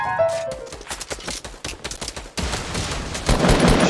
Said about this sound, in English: Shoot grenade launcher.